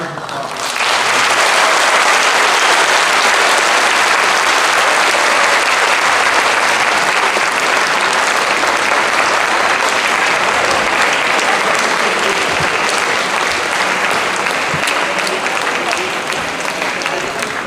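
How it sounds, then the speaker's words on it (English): Loud, sustained applause from the audience at the 2025 IUJ graduation ceremony: the clapping swells in after a brief quiet start and keeps a thick, even roar for well over fifteen seconds without a break. "everyone, please give Dr. Tanaka another round of applause."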